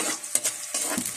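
Aromatics stirred and sautéed in a hot pan for mung bean stew, a brief close burst of sizzling with scraping spoon strokes and no voice.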